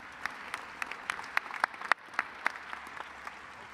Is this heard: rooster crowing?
no